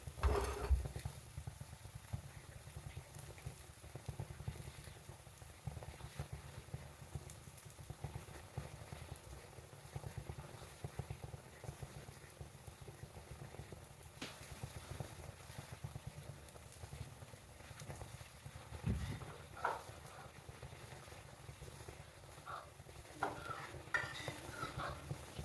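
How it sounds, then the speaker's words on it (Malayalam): Fruit and nut cone snack frying in a pan over a low flame, giving a soft, steady sizzle with occasional stirring and scraping, close and fairly quiet throughout with no talking. "എല്ലാ ഭാഗവും ഇങ്ങനെ അടിയിലും നന്നായിട്ടൊന്ന് പൊരിയണം കേട്ടോ"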